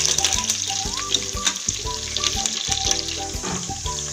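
Onion and curry leaves frying in oil for vegetable biryani, sizzling steadily up close, with bursts of crackle and irregular clinks of stirring and the pan throughout.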